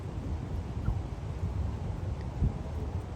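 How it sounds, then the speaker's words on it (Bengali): Strong outdoor wind buffets the microphone in a constant low, rumbling roar with a few louder gusts, and no voices over it. "আজকে প্রচণ্ড বাতাস বাতাসের কারণে অনেক সময় শব্দগুলো প্রপারলি শোনা যায় না"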